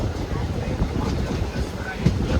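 Aboard the Thrissur–Coimbatore Intercity Express as it slows, a close, steady rumble of the rolling coach fills the moment with a few faint knocks, and muffled voices sit underneath.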